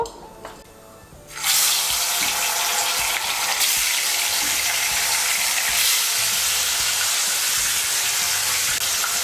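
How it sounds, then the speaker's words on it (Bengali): Katla fish pieces rubbed with salt and turmeric dropping into hot mustard oil, a sudden loud hissing sizzle that bursts in after a quiet moment and roars steadily, close up, no voices. "এখন আমি মাছগুলোকে ভেজে নেব।"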